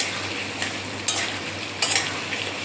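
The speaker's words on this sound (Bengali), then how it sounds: "আর এরই মধ্যে পেঁয়াজ দিয়ে দেবো আর এরই মধ্যে টমেটো দিয়ে দেবো, দিয়ে একসাথে কষাবো।" Onion and tomato are stir-fried together with potatoes and meat in a pan, giving a soft steady sizzle broken by a few sharp scraping stirs of a utensil against the pan.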